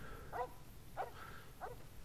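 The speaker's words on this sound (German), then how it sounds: "Ah, das ist ihr Hund, okay." A dog barks three times at a moderate distance in Fallout: New Vegas, each short bark spaced well apart over a low ambient hum.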